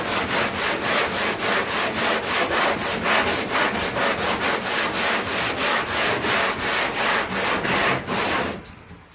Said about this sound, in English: I keep on sanding until the magic marker starts to go away.